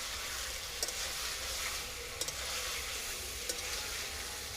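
Chicken pieces sautéing in a pan with garlic added, a steady broad sizzle and frying hiss running throughout with a few faint clinks from stirring, moderately close and alone without any voices.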